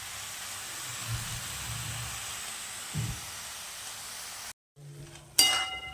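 Fenugreek leaves with gram flour being stir-fried in a pan: a steady, soft sizzle with occasional dull stirring thumps, then a short break followed by a brighter metallic clink and scrape, close up with no talking.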